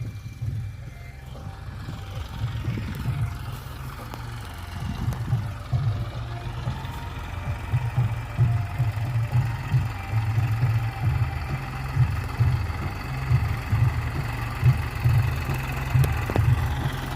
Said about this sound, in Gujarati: તમે જોઈ શકો છો આપણે ટ્રેક્ટર આવી ગયું છે વાવવા માટે